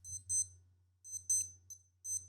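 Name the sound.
alarm going off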